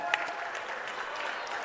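Crowd applause at a men's basketball game honoring the senior class, a steady even patter of many hands clapping throughout, moderately distant in a gym.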